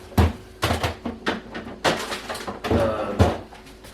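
Drawer in a home kitchen opening and closing during pheasant dinner prep, a run of sharp wooden knocks and slides at close range, several distinct thumps spread across the moment.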